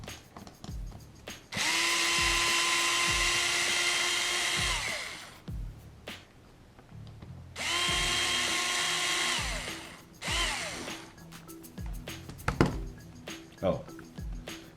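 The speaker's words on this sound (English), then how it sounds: "I'm adjusting my torque setting on this guy so I don't overdrive screws." A power screwdriver with adjustable torque drives screws into a Traxxas XO-1 RC car, sounding in two sustained whining runs of a few seconds each, followed by clicks and handling noises nearby.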